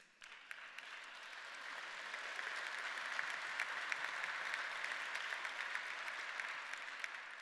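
A church congregation claps during a modern service, a soft scatter of hands that quickly swells into steady, even applause and holds at moderate volume without voices.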